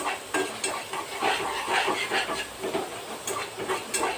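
Onions fry until golden in hot oil, giving a steady, close hiss with light stirring scrapes and small crackles throughout.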